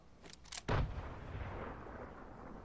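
Gunfire in the video game Fortnite Chapter 2: a few lighter shots followed by one loud, heavy blast that trails into a rumbling, echoing tail.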